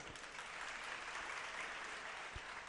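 An audience at a Jain religious discourse claps together, a soft, steady patter of applause with no voices over it.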